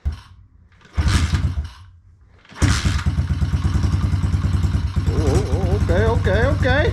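A pit bike engine coughs briefly, then fires up and settles into a steady loud idle with some revving, as people exclaim and talk over it nearby.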